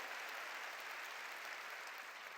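Worshippers clapping in unison at a New Year blessing revival meeting, a thick, even wash of applause sustained throughout, fairly distant and without speech over it.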